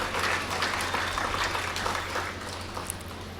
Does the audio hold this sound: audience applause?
yes